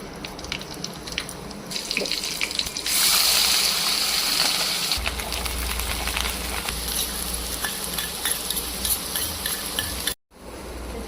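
Spiced potato masala for vada pav sizzles steadily in a hot pan while a spoon stirs and scrapes through it, a loud continuous frying hiss with a brief break near the end.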